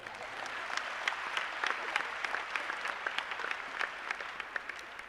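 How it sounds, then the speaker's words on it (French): An audience applauds at a church Valentine's Day evening gathering, a dense, lively round of clapping with distinct sharp claps standing out on top, steady for the whole stretch and no voices. "On peut les applaudir."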